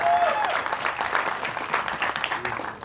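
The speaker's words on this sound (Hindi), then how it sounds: "सनीबाजी के लिए एक बार जोरदार ताली होनी चाहिए।" Audience applause at the Border 2 film teaser launch event with the cast, a steady wash of clapping from a large indoor crowd that lasts throughout.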